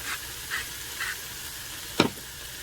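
Onion cooking down in a pan, soft sizzling with a few light stirring scrapes and one sharper clatter near the end, quiet and close.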